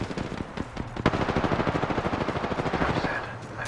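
Sustained automatic weapon fire in the video game Apex Legends, a loud continuous rapid rattle of shots with a heavy report near the start, filling the whole stretch.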